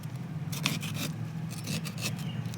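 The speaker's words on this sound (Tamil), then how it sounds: "நுங்கு கட் பண்ண போகிறோம்." A palmyra palm fruit (nungu, ice apple) is cut open, with repeated short scraping, rasping strokes in quick bursts against a steady low background hum.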